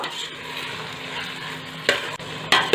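Tomatoes for pav bhaji fry in a pan as they are stirred, giving a steady close sizzle broken by two brief, sharper scraping strokes near the end.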